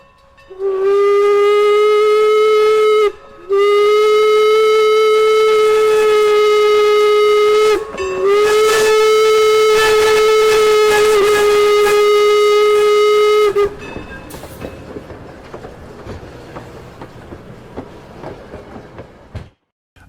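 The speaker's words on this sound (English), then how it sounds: "record sound live from a passing steam train" A loud steam whistle blows in long, sustained blasts with short breaks, then gives way to the chuffing and rattling of a passing steam train, recorded on a Zoom H4n.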